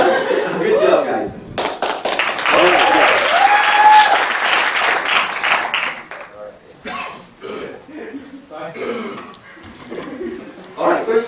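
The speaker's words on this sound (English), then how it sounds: "a round of applause for everyone else for setting the bar so high" A comedy night audience breaks into loud applause with scattered laughter and cheers, swelling to a dense peak and then fading into sparse claps, coughs and murmuring chatter.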